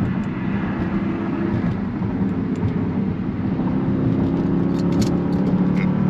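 Jeep SRT with a new aftermarket exhaust setup, opened up while driving: a steady, loud low engine drone with road rumble running throughout, rising slightly toward the end.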